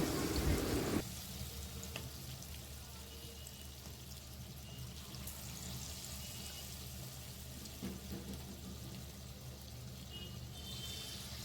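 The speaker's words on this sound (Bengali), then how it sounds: "ম্যারিনেট করা মাংসগুলোকে আমি একে একে কিন্তু ভালো করে একটুখানি লাল লাল হবে সেই মতো আর কি ভেজে নেব" A steady, soft sizzle of marinated chicken frying in oil, continuous and close, after a brief louder burst at the start.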